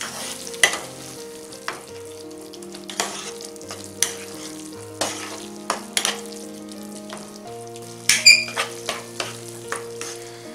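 Spices and red chili powder stirred in a pan for pav bhaji, a spoon clanking and scraping against the metal in irregular strokes over a light sizzle, with a quick flurry of knocks near the end.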